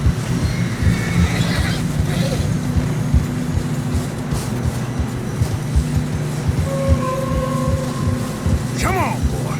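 A horse whinnies in Red Dead Redemption 2 while riding through fresh snow on a narrow mountain path, the neigh rising near the end over steady hoofbeats, wind and ongoing voices.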